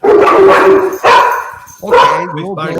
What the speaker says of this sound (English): My dog's going off now because he heard the dog.